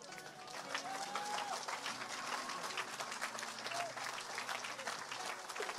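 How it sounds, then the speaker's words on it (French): A church congregation applauds and cheers during a French-language sermon, giving a thick, even wash of clapping from many people with a few voices rising above it. "Ah, il mérite des acclamations, frère."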